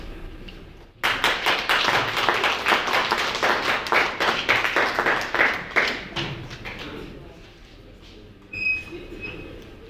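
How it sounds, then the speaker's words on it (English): An audience claps in steady applause that starts abruptly, keeps up for several seconds, then trails off. "Let's give her another round of applause"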